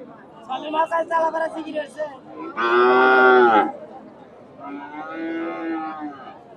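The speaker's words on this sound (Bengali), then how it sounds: "সুন্দর একটা ষাঁড়, ফ্রিজিয়ান ষাঁড়।" A Friesian bull at the Hasokhali cattle market bellows in two long, loud moos, the first strong and close, the second softer. People talk and a crowd murmurs before and around the calls.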